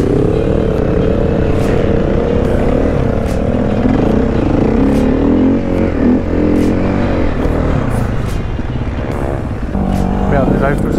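A motocross motorcycle rides a dirt training track at Loon-Plage, its engine droning and revving loudly and close throughout while a person talks over it.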